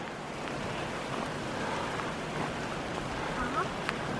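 Rain falls during a mountain hike, a soft, steady, even hiss that fills the whole moment at low volume, with a few faint indistinct sounds on top and no clear talk.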